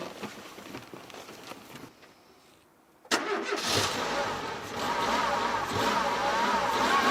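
A damaged Dacia Logan in a low-budget restoration, with its check-engine light on and an unsteady idle, catches after a pause and settles into a loud, uneven running engine that revs and surges close by.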